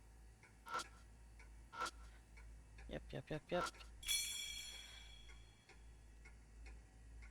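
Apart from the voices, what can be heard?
clock ticking in a video game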